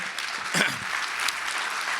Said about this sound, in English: one more round of applause for the speaker